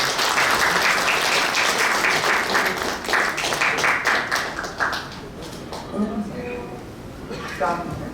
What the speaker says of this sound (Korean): 그 박수로 부탁드리겠습니다